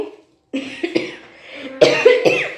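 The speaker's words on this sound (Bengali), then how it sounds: "সরি শুকনো কাশি একটা হচ্ছে" A few dry coughs in short bursts, close to the listener, with brief pauses and throat noise between them.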